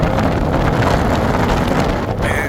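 Strong wind buffets the microphone outdoors at an electrical substation during shunt reactor and capacitor work, a steady, loud, rumbling roar that holds for the whole stretch with no voices.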